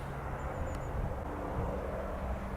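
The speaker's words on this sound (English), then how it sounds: "Noisy airplane as usual." A steady, distant drone of a fixed-wing airplane passing overhead above a countryside hedge and slope, holding a constant low hum throughout without talk.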